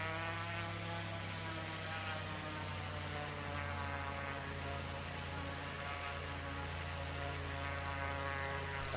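A propeller aircraft engine in the flight game Flyout drones steadily with a strong, even hum and layered buzzing tones, continuous and unchanging throughout.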